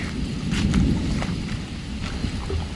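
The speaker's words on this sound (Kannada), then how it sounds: "ಫುಲ್ ಜೋರಾಗಿ ಗುಡುಗ್ತಾ ಇದೆ" Thunder rumbles low and continuous through a heavy rainstorm during fishing by a forest, a deep rolling drone with rain and wind noise layered over it and no voices.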